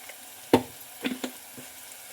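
Chili powder and spices for vatha kuzhambu sautéing in a pan: a few sharp spatula knocks and scrapes over a soft, low sizzle.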